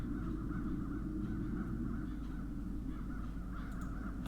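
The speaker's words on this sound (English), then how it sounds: "Those crows stem from the nether hells." Crows caw in The Dark Eye: Chains of Satinav game, a steady dense flock clamor under a low constant hum, with no talking.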